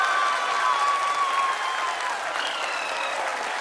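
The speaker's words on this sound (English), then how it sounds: "People are applauding." Steady, sustained applause from a large audience celebrating the Chandrayaan 3 lunar landing, dense and continuous throughout, with faint tonal sounds running underneath.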